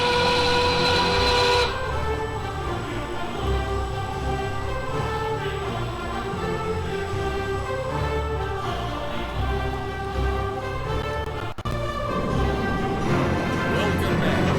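A roller coaster train on the Voyageur ride in NoLimits 2 rumbles and clatters steadily along the track, loud and sustained, with a tonal whine above and a brief cut near the end.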